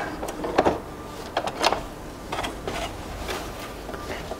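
Domestic sewing machine stitching fabric for drawstring pants, with short bursts of quiet whirring and clicking separated by pauses, near but faint.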